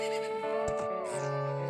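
A horse in the video game The Legend of Zelda: Majora's Mask 3D gives a tonal, wavering whinny of under two seconds over a sustained background of game sound.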